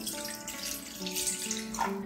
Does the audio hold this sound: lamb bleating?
no